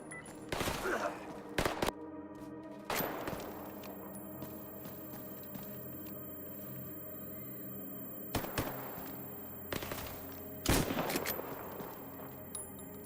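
Gunfire in a video game comes in several loud, sharp bursts separated by quieter stretches of ambient game sound, near and distinct.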